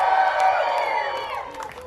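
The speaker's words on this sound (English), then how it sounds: "Everybody clap your hands." Audience at a Samoan village show cheering and shouting together, a short burst of crowd noise with whoops that tapers off.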